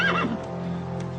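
A horse whinnies once, close and loud, its cry rising and falling before fading under a steady low background hum in a cartoon night scene.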